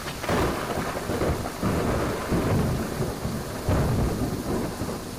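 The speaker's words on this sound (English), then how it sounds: "That lightning was loud, Dots." Loud thunder rolls over steady heavy rain in a video game rainstorm, with several deep rumbling booms rising and fading across the stretch and no talking.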